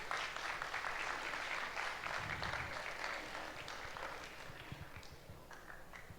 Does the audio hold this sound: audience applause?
yes